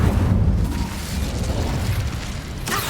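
An Incendio fire spell in Hogwarts Legacy roars as a dense, continuous whoosh of flame at full loudness, sustained for nearly three seconds with a brief rushing flare at the end.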